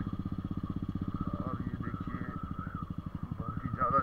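A motorcycle rides a badly potholed mountain road on a Spiti Valley trip, its engine thumping in a steady, close pulse while clatter and rattles ride over it and a voice talks.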